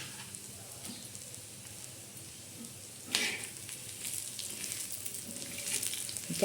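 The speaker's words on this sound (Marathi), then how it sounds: "लसण बी भाजून घ्यायचं" Garlic roasts in a pan for a brinjal curry with prawns and Bombay duck, giving a quiet, steady sizzle with one brief scrape of a spatula midway and a slightly livelier crackle toward the end.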